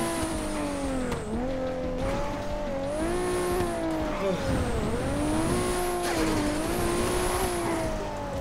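Tires squeal in long, wavering screeches as a car drifts and spins in GTA V roleplay, the engine droning steadily underneath, loud and continuous throughout.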